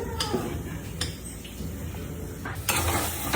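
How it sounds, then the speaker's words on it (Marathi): A thick ground paste of lentils, chilli, garlic and cumin sizzles in hot oil with curry leaves and turmeric while a spoon scrapes and clinks against the pan several times. "सगळं मिक्सर मधून काढलेलं वाटण, कढीपत्ता, हळद हे सगळं तेलामध्ये छान परतून घ्यायचंय."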